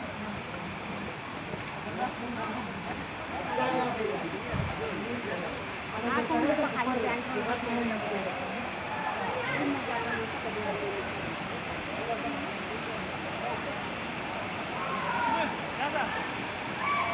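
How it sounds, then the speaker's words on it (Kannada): A steady, rushing roar of a waterfall with low water flow fills the whole stretch, with faint voices now and then underneath. "ಓ ಅದು ನೋಡ್ರಿ ಫಾಲ್ಸು, ಅಮೇಝಿಂಗ್ ಫಾಲ್ಸ್"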